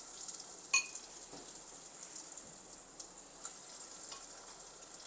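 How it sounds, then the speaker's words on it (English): Falafel balls fry in hot oil in a pan, a soft steady sizzle with occasional crackles and one sharper pop near the start. "There's that sizzle."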